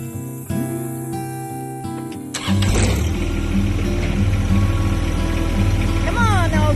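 A John Deere 1025R compact tractor engine cranks and catches partway through, then settles into a loud, steady diesel idle close by with a slight rev near the end.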